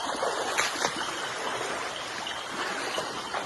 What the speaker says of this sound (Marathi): स्टील पावसामुळे पाण्याचा झोत वाढतो आहे